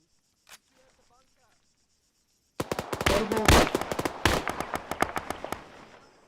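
Airsoft gunfire during counter-ambush training: after a brief isolated pop and near silence, a dense burst of rapid, sharp shots erupts and continues loud and close, with irregular clusters of cracks overlapping each other.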